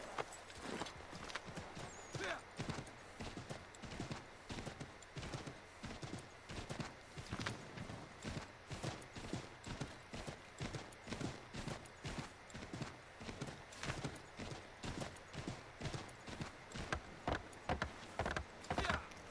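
Horse hooves galloping in Assassin's Creed III, a steady rapid clip-clop rhythm running throughout, fairly loud over a dense game soundscape with no talking.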